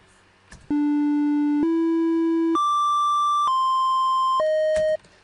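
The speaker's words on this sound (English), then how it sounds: "So this triangle wave sounds meatier" A synthesized triangle wave tone steps through a sequence of sustained pitches, each held about a second, clean and steady with a soft buzzy edge, alone without talk.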